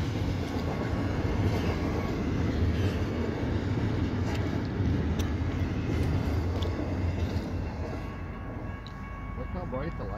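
A BNSF freight stack train rolls past at Cridge Street with a continuous heavy rumble and faint rhythmic wheel clatter. The sound stays loud and even, easing slightly near the end, with voices faint over it.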